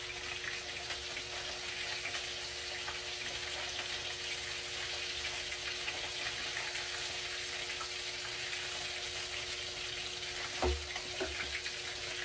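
Cooking oil sizzles and crackles steadily as food fries in a home kitchen, a constant close hiss with one brief louder knock near the end and no speech.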